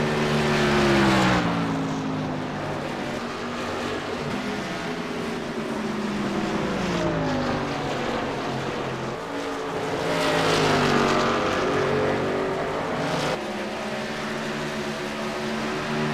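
Race trucks roar around a track in close pack racing, one damaged with front and rear damage, engines droning loud and continuous with rising and falling pitch as they pass, no talk.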